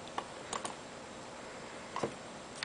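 Typing on a computer keyboard comes as a few faint, scattered key clicks against a quiet background.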